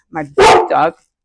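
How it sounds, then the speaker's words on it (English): A pet dog gives three quick, loud barks close by, the middle one sharpest, and then falls silent. "And that's my dog"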